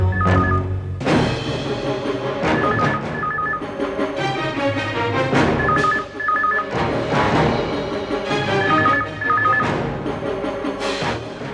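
A telephone rings in a Hindi crime drama scene, sounding in repeated bursts of ringing tones over a steady bed of background music.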